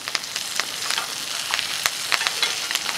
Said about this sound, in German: braten das ein bisschen an oder mit an, damit das Fleisch von unten auch Geschmack kriegt